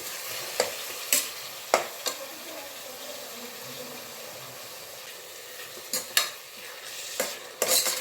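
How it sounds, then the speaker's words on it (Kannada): Tomato being stirred with salt and turmeric in a pan for tomato bath, soft scraping and stirring over a low background, with sharp utensil clacks against the pan at scattered moments. "ಒಂದು ಸ್ವಲ್ಪ ಟೊಮೆಟೊನ ಉಪ್ಪು ಅರ್ಶಿನ ಮಿಕ್ಸ್ ಮಾಡೋಣ ಈ ರೀತಿ"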